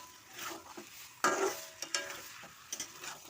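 Mutton pieces frying in oil as they are stirred, a soft continuous sizzle broken by a few sharper scraping knocks of the spoon against the pan, close and fairly quiet.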